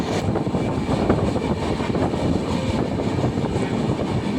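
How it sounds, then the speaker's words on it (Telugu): A train travelling from New Delhi to Varanasi rumbles steadily from inside, with a continuous low drone and rhythmic wheel clatter at a constant level. "అయితే మేము న్యూఢిల్లీలో ట్రైన్ ఎక్కామండి"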